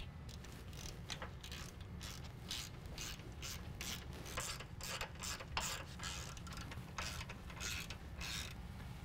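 A hand ratchet clicks rapidly and repeatedly while lift kit bolts on a 2014-2017 Chevy GMC 1500 4WD are tightened, close and fairly quiet, with bursts of sharp pawl ticks in an uneven rhythm.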